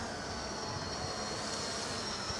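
An XK X350 RC drone flies outdoors, giving a steady, even motor whine with a broad airy hiss that holds at a constant level throughout, with no talking.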